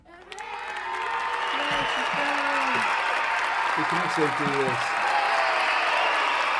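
Canned applause and cheering effect played during a livestream sign-off, a dense crowd wash that swells in after a moment and holds steady throughout while someone talks over it.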